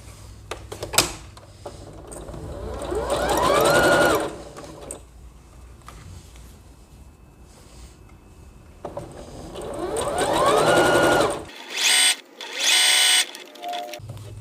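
A domestic sewing machine stitches fabric in two sustained runs, each a whirring mechanical drone that ramps up and holds for a few seconds, separated by quieter pauses, with brief clicks and bursts near the end.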